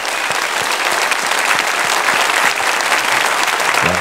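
A church congregation at a Friday worship service claps loudly and steadily for the Thailand camp team, a dense, even wash of many hands held at full strength throughout.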